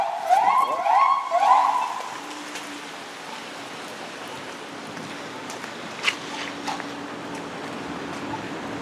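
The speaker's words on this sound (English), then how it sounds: "Police car." A police car siren wails briefly at night on a rainy Toronto street near a police station. It sounds fairly close, then fades, leaving steady rain and traffic hiss.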